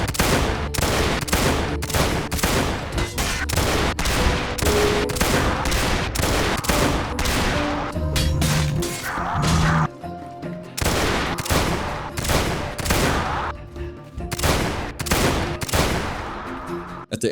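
Rapid pistol fire from two guns in a video game fight against skeletons in an ancient cavernous tomb, sharp loud shots cracking in quick bursts with a few short pauses, alongside game sounds.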